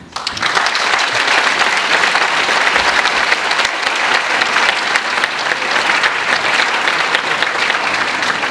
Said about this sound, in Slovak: si všetci členovia rodín, aj tanečníci, hudobníci, speváci, speváčky zaslúžia veľký potlesk